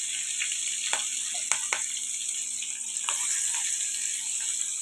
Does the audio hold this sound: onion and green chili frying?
yes